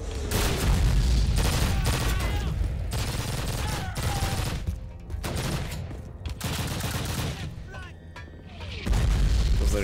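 PPSh submachine gun fire in the original Call of Duty, with loud sustained bursts and heavy explosions in a dense, chaotic battle that rarely lets up, plus a few scattered quieter gaps.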